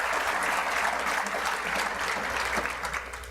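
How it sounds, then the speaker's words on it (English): An audience at a county State of the Region address breaks into sustained applause, a steady wash of clapping from many hands that holds across the clip and eases slightly toward the end. "That deserves an applause."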